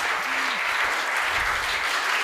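A crowd claps at a Hindi comedy poetry show, a thick, continuous wash of applause with a brief tonal cry near the start and faint murmuring voices underneath.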